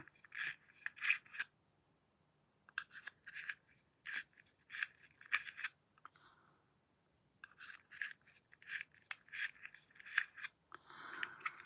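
A cosmetic pencil being sharpened produces short, close, scraping twists in irregular rhythmic bursts with a pause midway, fairly faint, with no talking.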